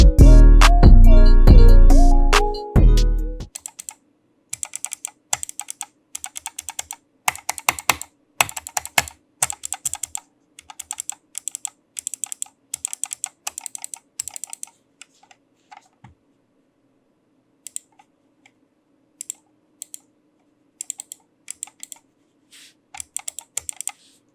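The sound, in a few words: HyperX PulseFire Core mouse button clicks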